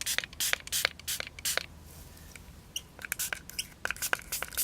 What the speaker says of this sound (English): very fine spray of water and washing up liquid